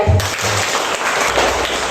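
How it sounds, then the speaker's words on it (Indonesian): Applause from a university class for a group presentation in an Indonesian teacher-training session, a loud, dense wash of clapping from the room that runs steadily throughout, with a low voice briefly at the very start. "kita tepuk tangan sekali lagi"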